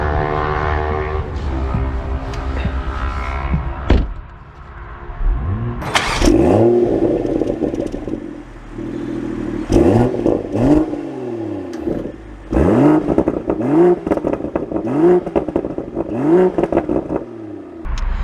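A 2024 BMW Z4 M40i roadster accelerates hard while driving. Its engine climbs through repeated rising revs, with sharp gear shifts between them and a brief lift-off partway through. The sound is loud and close, with no talk.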